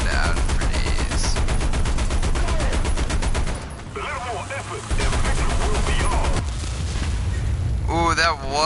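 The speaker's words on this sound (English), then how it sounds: "You can just gun people down for days." Machine gun fire in War Thunder rattles in long, rapid, continuous bursts, loud and close, pausing briefly near the middle before resuming, with other battle noise and a short rising whine near the end.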